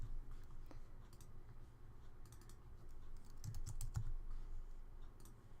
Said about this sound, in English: I can go to each one of these and type home